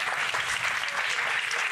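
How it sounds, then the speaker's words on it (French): Studio audience applauding on a French TV talk show as a chef guest is welcomed, a dense, steady clatter of many hands clapping throughout, with no voices over it. "Applaudissements pour lui."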